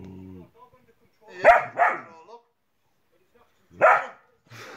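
A dog that is not trained as a police dog barks a few sharp times in two clusters, close and fairly loud, with a voice heard briefly at the start.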